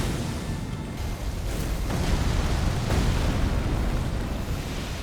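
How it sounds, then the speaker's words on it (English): Messmer the Impaler dive-bombs from far away in the Elden Ring DLC, producing a long, loud, rumbling fiery explosion with a couple of sharper bursts inside a continuous roar. "Nice little bonus here of him trying to dive bomb me from very far away"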